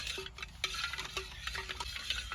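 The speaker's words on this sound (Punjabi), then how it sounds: "ਹੁਣ ਪਾਵਾਂਗੇ ਇਹਦੇ 'ਚ ਬਰਫ਼" Ice cubes clinking and rattling into freshly made watermelon juice in a kitchen, a string of light knocks and clatters over a low background hum, with no talking.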